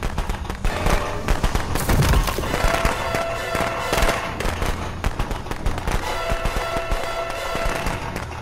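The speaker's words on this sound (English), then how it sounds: "Have some firecrackers, Crow." Firecrackers bursting in a Friday the 13th video game, a rapid crackling string of sharp pops and bangs continuing throughout, loud and dense with brief louder blasts mixed in.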